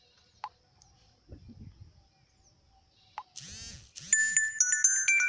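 WhatsApp notification for an incoming message on a phone: a faint tap and soft rustle, then a rising chirpy chime and a bright repeating electronic tone close up near the end.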